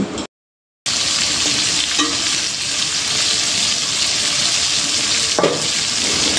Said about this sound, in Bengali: লো হিটে এই মাছগুলো তেলের মধ্যে ভেজে নিতে হবে।